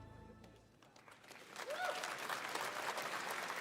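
Scattered applause from a crowd at a video game showcase event starts faintly and swells into steady clapping, with a murmur of voices in the background.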